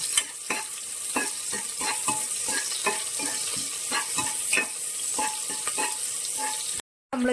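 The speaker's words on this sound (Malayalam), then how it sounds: "അതുപോലെ തന്നെ ഈ ഉള്ളി ഇത് നന്നായിട്ട് വഴറ്റിയെടുക്കണം" Small coconut pieces and onion sauté in a pan for a sweet appam, a continuous soft sizzle punctuated by frequent clicking spatula stirs at an even pace, close and unaccompanied by speech, cutting out briefly near the end.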